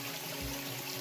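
Water flows in a forest creek as a continuous, close wash with a low murmur underneath. No voices are heard.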